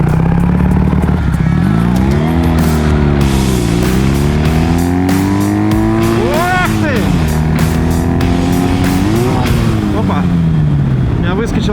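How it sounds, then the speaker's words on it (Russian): Ural motorcycle engine with a lightweight flywheel revving hard on the move, its droning pitch climbing and falling through several rises with rough mechanical clatter and heavy wind rush throughout, loud and close. "А моторчик прекрасно крутится, я вам хочу сказать. Облегченный маховик — это тема."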